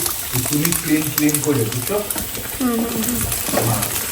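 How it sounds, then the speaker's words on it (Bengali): Meat is sautéed in a pan with a continuous sizzle and light stirring underneath, while voices talk over it in the foreground for much of the time. "আর মাংসটা কিন্তু এখানে কষানো হচ্ছে"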